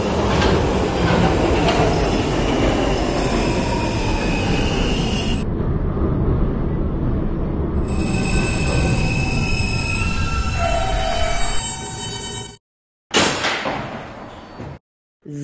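R160B-1 subway train in the PTA Subway game, a loud steady hum of a running car with wheel squeal and tones, then door sounds and a brief slam before near silence.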